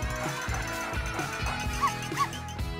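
A cartoon dog yips and barks in several short bursts that play over a busy cartoon soundtrack, quite loud and close.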